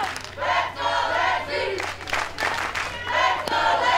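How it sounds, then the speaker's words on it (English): Crowd at a youth 10U softball national championship game cheering and shouting in repeated loud bursts, voices rising and falling over the stretch. "Lexi hears the cheers from the crowd."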